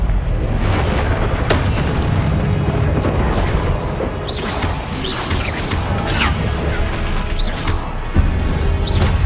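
Repeated fiery spell blasts from the Hogwarts Legacy video game, heavy booming impacts with crashing debris and whooshes layered over dense combat noise, with sharp bursts recurring throughout.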